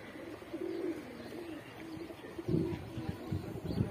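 Highflyer tournament pigeons perched outdoors coo in soft, repeated low throbbing calls, several birds overlapping at close range.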